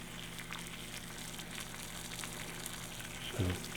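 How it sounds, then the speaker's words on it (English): Water at a rolling boil on a Trangia alcohol stove, a steady faint bubbling hiss close by, with a soft knock near the end. "That's a definite good boil."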